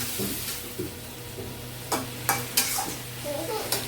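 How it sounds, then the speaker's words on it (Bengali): Fish sizzles in a hot pan in its own rendered fat with no added oil, a constant close frying hiss broken by several sharp scrapes and clinks of stirring. "মাছের তেল দিয়ে মাছ রান্না করবো তাই তেলগুলা গলায় নিচ্ছে"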